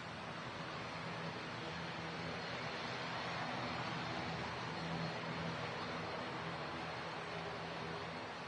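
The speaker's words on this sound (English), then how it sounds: "as one Pegasus Neo taxis over to the second runway, we've got this one arriving" A Pegasus Neo light aircraft arrives at a runway, its engine a steady, broad drone that holds evenly throughout, distant and fairly faint with no voices over it.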